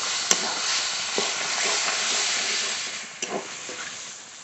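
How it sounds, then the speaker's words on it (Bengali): Meat sizzles steadily in a pan while cooking down for Bengali kosha mangsho, a continuous frying hiss broken by a few sharp clanks of a spoon stirring and scraping, close and fairly loud. "মাংস ঢেকে ঢেকে খুব ভালো করে কষিয়ে নেব"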